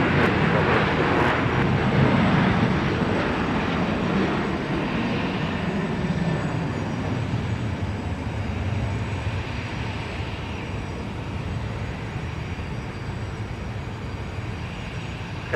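An airliner takes off at Minneapolis–St. Paul Airport, its engines a loud, steady broadband roar that slowly eases as the plane climbs away.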